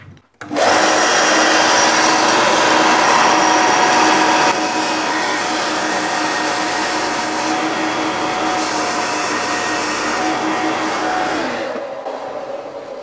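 A belt and disc sander starts up and runs with a loud, steady motor roar and a broad rushing hiss. It stays close and constant for about twelve seconds, then winds down slightly at the end, with no voices.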